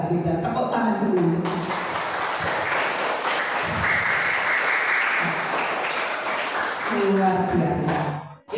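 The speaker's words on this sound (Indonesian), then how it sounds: "tepuk tangan dulu" A group claps together at a Christian meditation gathering, with voices speaking before and after the clapping that swells in the middle.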